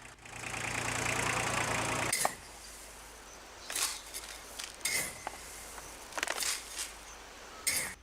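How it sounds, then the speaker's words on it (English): A small tractor engine idles steadily for about two seconds, a continuous low mechanical rumble, then cuts out, leaving quiet with scattered faint knocks and clatters. "So this is our cute little tractor."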